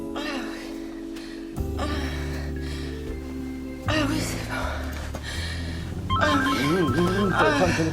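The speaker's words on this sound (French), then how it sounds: "Téléphone." A telephone rings with bright, warbling electronic tones over a backdrop of tonal music, the ringing growing louder toward the end.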